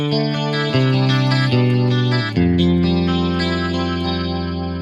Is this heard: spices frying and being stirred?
no